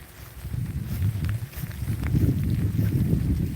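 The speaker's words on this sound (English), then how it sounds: "Yeah, it's definitely breezy" Breezy wind at a campground near the Big Cypress area, a steady low rumbling buffet of gusts against the microphone that swells slightly over a few seconds, with no voices.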